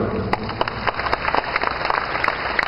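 Thin, sparse applause from an audience, scattered individual claps rather than a full ovation, under a steady high electronic whine and a faint background murmur.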